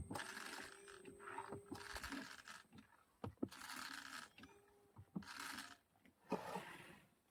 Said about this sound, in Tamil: அடுத்து என்ன சொன்னா இதை பம்ப் பண்ணணும்